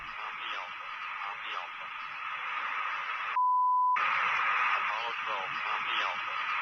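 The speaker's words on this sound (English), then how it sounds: "Could this be an interference caught through the military line from where this transmission was being sent?" A narrowband radio transmission hisses and crackles with warbling interference, interrupted midway by a single steady beep lasting about half a second, then the static resumes.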